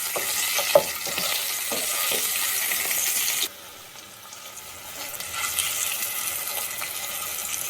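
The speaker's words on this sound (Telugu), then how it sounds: "ఎగ్స్ వేస్తున్నాను. సో ఎగ్స్లా ఫ్రై చేసుకుంటే సూపర్ టేస్ట్ ఉంటుంది." Oil sizzles and crackles in a pan as eggs fry for egg biryani, loud at first and then softer after a sudden drop, with occasional scraping clinks of a utensil.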